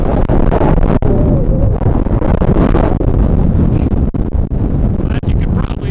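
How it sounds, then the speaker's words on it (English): Strong morning wind buffets the microphone outdoors on an open hunting landscape, a loud continuous roar with gusty thumps throughout, alone without talk. "As you can probably hear, it's pretty windy this morning."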